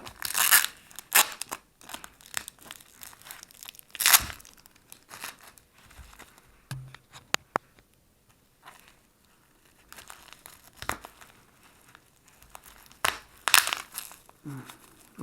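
A taped-up package holding a roll of wheat cents is torn and unwrapped, giving bursts of crinkling, ripping and crunching with quiet pauses between, close and fairly loud.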